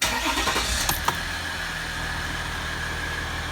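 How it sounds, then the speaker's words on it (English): A 2016 Ram EcoDiesel pickup, recently in limp mode with a no-boost fault, cranks briefly and fires, then settles into a steady diesel idle, close and fairly loud. "Now I'll start the engine again."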